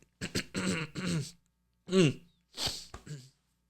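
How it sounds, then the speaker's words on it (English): A few short, harsh coughs in separate bursts, close to the microphone, with brief pauses between them and no talking. "I was coughing."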